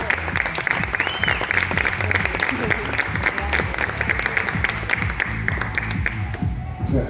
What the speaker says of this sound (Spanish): El aplauso fuerte, por favor.